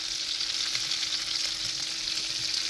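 Fresh garlic and onions sizzle loudly in a hot pan alongside pork chops for pork chop marsala, a steady close frying hiss with faint stirring and no talk.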